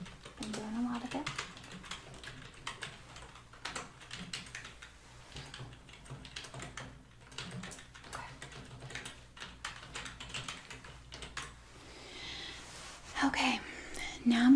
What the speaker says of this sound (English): I hope you don't mind the sound of typing